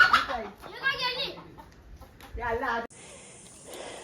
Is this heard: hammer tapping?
no